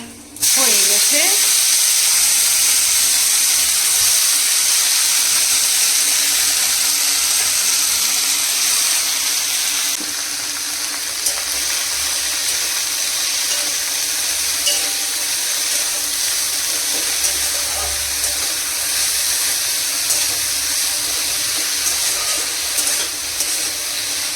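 Whole spices sizzle loudly in hot mustard oil on a gas stove in a home kitchen, a steady dense frying hiss that holds close and unbroken for the whole stretch.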